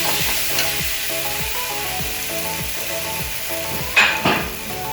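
Loud, steady sizzling of potatoes frying in a pan, with a few clatters from stirring toward the end.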